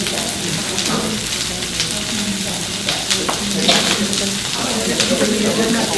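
Garlic sizzling steadily as it fries in a pan, a dense crackling hiss that runs throughout with occasional stirring scrapes.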